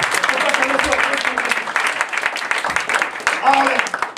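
Church congregation applauding the Lord, a steady sustained wash of clapping and cheering throughout, with a voice speaking over the crowd.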